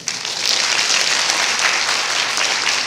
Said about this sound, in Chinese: 就鼓掌好不好？